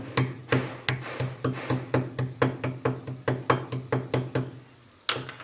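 Black pepper being pounded into coarse powder for an immunity drink, about twenty steady, evenly spaced thuds close by, a rhythmic knocking that stops briefly before one last strike.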